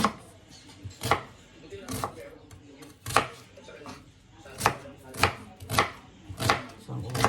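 Onions chopped on a board with a knife, about ten sharp, evenly spaced thuds at a steady unhurried rhythm, close and clear.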